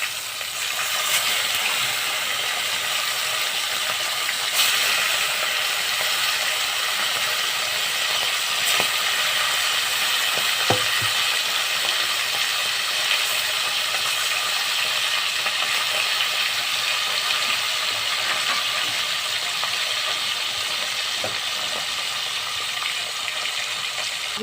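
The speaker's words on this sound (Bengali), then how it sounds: "ভোলা মাছটাকে ভেজে নিচ্ছি" Small Bhola fish frying in hot oil, a continuous loud sizzle with occasional crackles and pops running steadily throughout.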